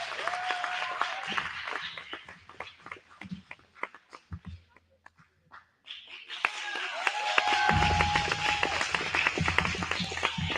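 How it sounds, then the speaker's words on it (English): Audience applause at a youth awards celebration, scattered clapping and cheers with voices mixed in, dying down to near quiet midway, then rising again into a fuller, louder round of clapping. "let's give her a round of applause"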